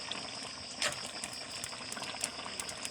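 Water bubbles and simmers in a pot of ginataang labong (bamboo shoots in coconut milk), a soft continuous churning with a steady high hiss and occasional pops.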